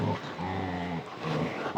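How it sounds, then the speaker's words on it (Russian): A creature in the video game Метель growls in low, rumbling bursts, two drawn-out snarls separated by a short pause, fairly quiet. "Слышите, как он рычит?"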